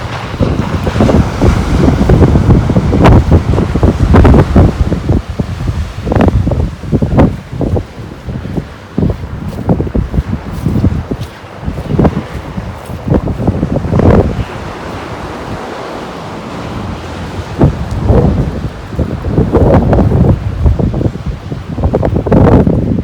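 Strong wind buffets the microphone on a wide sandy beach with large stones while sea waves roll in and break repeatedly, a loud, gusty roar with no talking.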